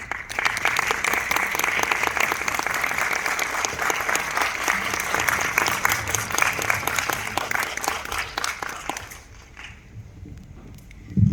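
A cinema audience at a stage greeting for the film Suzume gives loud, sustained applause to welcome director Makoto Shinkai. The clapping fades out near the end, leaving quieter room noise.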